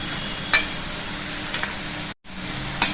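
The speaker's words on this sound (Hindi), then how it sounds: "ये देखिए थोड़ा और भूनना है इसको।" Pieces of arbi (taro root) roast in a pan with a soft, steady sizzle, broken by a few sharp clinks of a utensil stirring against the pan and a brief gap of silence.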